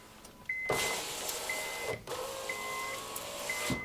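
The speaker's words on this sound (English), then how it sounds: "Window switches are working." A Honda's power window motor whirs steadily at close range, a thin whine running in repeated stretches, broken by clicks and short gaps as the switch is pressed and released.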